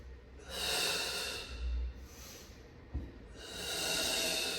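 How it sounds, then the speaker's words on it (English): Deep, audible breaths during a barre-style floor exercise workout, two long broadband inhale-exhale swells separated by a quieter pause, close and fairly loud with no talk over them. "And take a full breath."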